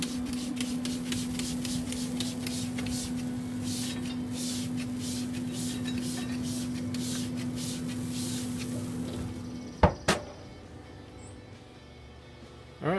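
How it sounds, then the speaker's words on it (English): A spray bottle spritzes ribs on a BBQ smoker in a quick run of short, soft hissing squirts over a low background hum. A couple of sharp knocks and clunks follow near the end. "Alright, last spritz."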